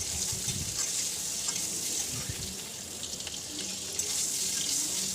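Boiled eggs frying lightly in a pan with salt and turmeric give a bright, steady sizzle, with a few soft stirring knocks near the start and middle.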